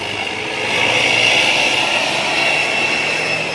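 A Hino RK8 bus engine with an XR2 body runs with a loud, steady roar and broad whine that swells after the first second and holds without a break.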